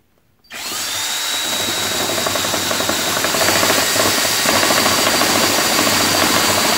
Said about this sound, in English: we're gonna upgrade to a 5/8 paddle bit and see if that can put a hole